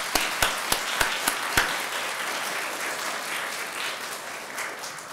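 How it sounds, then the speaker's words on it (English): Audience applause at a district-wide spelling bee, with a few sharp individual claps at the start, then a steady wash of clapping from a crowd that continues evenly throughout. "So can we get a round of applause for all of our parents?"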